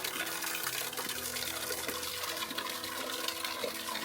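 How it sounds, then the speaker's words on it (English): Water pouring and splashing down from above inside a mountain cave passage, a steady loud wash of falling water that fills the whole space without pause. "the water is coming from above"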